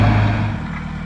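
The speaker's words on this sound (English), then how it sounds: "have somebody with a 24-inch auger show up, and let's watch this thing dig" A 24-inch auger rig digging an outhouse hole, with a steady low engine drone and churning rumble that holds loud and constant, tapering slightly, with no talk.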